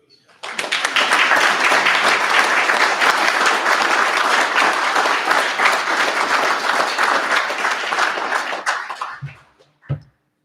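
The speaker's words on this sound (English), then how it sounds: "A round of applause for this." Sustained applause from an audience at a Civil Air Patrol Silver Medal of Valor award ceremony, loud and steady for about nine seconds before fading out, followed by a couple of brief thumps.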